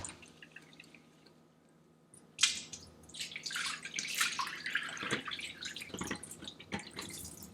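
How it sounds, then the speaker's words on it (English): Cold water splashing and dripping as medium grain white rice is rinsed in a small saucepan, quiet close sloshing and trickling that builds after a near-silent start, with scattered drips. "Next, wash the rice with cold water"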